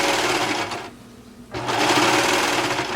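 A sewing machine runs steadily while stitching elastic along the leg seam of a swimsuit, its close, loud whirring broken by one short pause midway before resuming.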